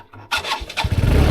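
A farm tractor's engine cranks on its self-starter after a quiet moment, then catches and rumbles loudly up close into a rough, pulsing run.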